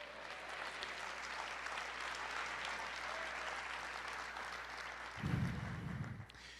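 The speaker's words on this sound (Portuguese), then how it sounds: "Você pode aplaudir o Senhor e dizer glória a Deus?" A church congregation applauds steadily as a dense, even wash of clapping across the whole stretch, with a brief louder low rumble near the end.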